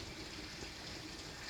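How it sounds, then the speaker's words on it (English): Water runs over the jagged stones of a fireplace waterwall feature, making a steady, even rush of splashing that stays faint and continuous throughout. "So you see how the jagged stones let water flow"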